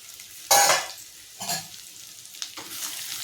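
Mutton and cashew fry sizzles in a pan as it is stirred: three distinct stirring scrapes with bursts of close frying hiss, the first the loudest, over quiet background sizzle.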